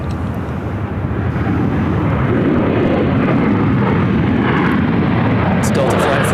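Delta Boeing 737-900ER landing at Phoenix airport, a deep rumbling jet roar that builds and holds steady, loud and close, with people talking over it.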